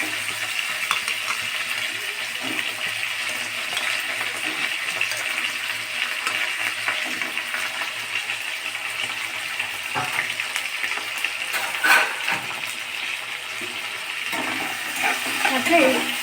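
Jackfruit curry with onion, tomato and whole potatoes fries in a pan with a soft, continuous sizzle, punctuated by occasional stirring clinks and scrapes, and a few louder knocks later on.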